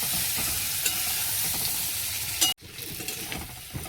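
Spices for aloo dum, a potato curry, sizzle and fry in a pan while being stirred, a close continuous hiss with scraping, briefly cutting out before the frying resumes.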